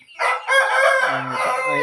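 A fighting rooster crows loudly and close by, one long strained cock-a-doodle-doo call that carries through most of the short stretch with no talk over it.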